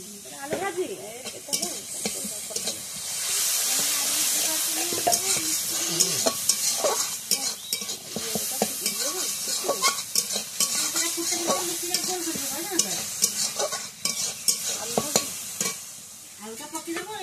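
Potatoes fry and get stirred in a pan, a steady hiss of hot oil with frequent scraping and clinking from a spatula, and a voice briefly heard over the cooking.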